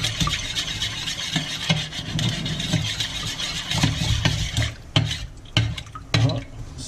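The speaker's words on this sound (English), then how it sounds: "Just mix that up." White sugar is stirred into a pan for Vietnamese caramel pork, giving repeated scraping and clinking strokes of a utensil against the pan under a low background hum, close and fairly loud.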